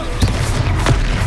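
Two sharp blasts from the Confringo fire spell in the Hogwarts Legacy video game, each a short punchy burst over a steady rumble of game background sound.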